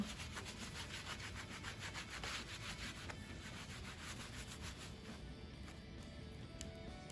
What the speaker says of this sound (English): I can scrape some of this up with my fingernails.